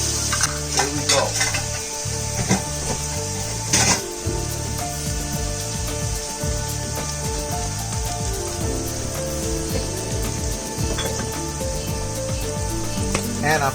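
Onions and peppers fry in a pan, giving a steady sizzle with stirring and scraping of a utensil against the pan, close and continuous.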